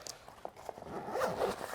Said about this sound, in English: the Sawtooth has a 270-degree zipper here